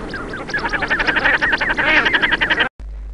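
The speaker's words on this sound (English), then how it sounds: "common shell duck," Common shelduck calling in a rapid, continuous stream of harsh, quacking notes, loud and close, cutting off abruptly near the end.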